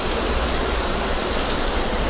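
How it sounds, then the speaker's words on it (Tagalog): Heavy rain pours steadily in a parking area, a dense, loud, unbroken hiss of drops on hard surfaces with no pauses or voices. "Lakas ng ulan."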